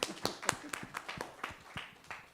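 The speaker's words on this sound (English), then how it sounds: "On applaudit." At a general assembly of the African Man and Biosphere reserves network, a small audience gives scattered, uneven handclaps. The claps come as distinct separate strikes, with voices talking over them.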